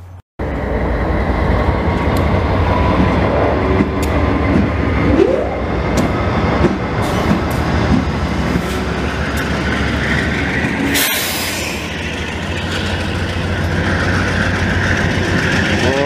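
Old GE diesel locomotive on VIA Rail in Montreal in January, its compressor running, giving a loud, steady rumble with a constant mechanical drone throughout, and a brief sharp burst partway through.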